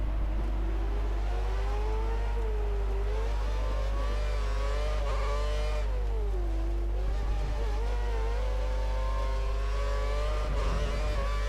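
Race car engine in the F1 2013 video game at the Singapore street circuit, a continuous loud whine rising and falling with throttle and gear changes, with a steady low drone beneath and brief dips around braking.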